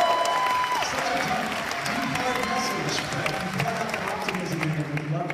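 Applause from an audience at a high school performance, a dense, steady wash of clapping that continues for the full stretch with crowd murmur mixed in.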